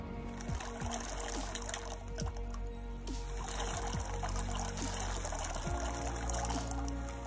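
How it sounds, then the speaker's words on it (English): Marble chips for a betta fish tank being rinsed in plain water, with continuous trickling and pouring plus scattered small knocks and clinks of stones, close and moderately loud. "wash the marble chips properly. I did 10 times with plain water and no soap."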